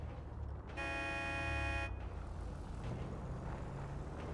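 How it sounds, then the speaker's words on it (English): A car horn sounds once in a steady blast of about a second, heard faintly and distantly over a phone line against a constant low hiss and rumble. "can you blow your horn?"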